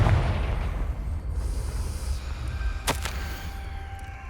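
In Hogwarts Legacy, the Confringo blasting spell hits with a deep booming explosion that rumbles on, followed by a sharp crackling burst and a thin ringing tone fading out, with no one speaking.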